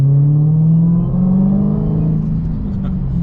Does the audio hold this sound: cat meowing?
no